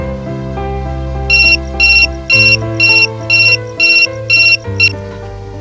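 A telephone rings with a repeating electronic trill, about eight short bursts in a steady rhythm, loud and close over a continuous music background.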